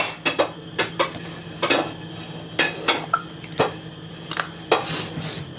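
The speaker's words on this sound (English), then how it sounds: "She's like doing the dishes right now" Dishes and cutlery clatter at a kitchen sink in irregular bursts of clinks and knocks, close and moderately loud, with no voices.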